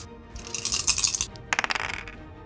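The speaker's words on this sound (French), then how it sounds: "Tu me fais le jet de dés." Dice rattle and clatter close up in two quick bursts, a shaken jumble of clicks followed by a second tumbling roll that settles, with no voices over them.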